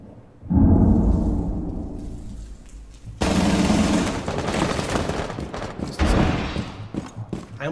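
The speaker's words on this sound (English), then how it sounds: "I almost just headshotted Thermite." Gunfire in the Rainbow Six Siege video game, loud bursts of rapid shots in close succession with heavy reverberant blasts, near and intense, with no talking.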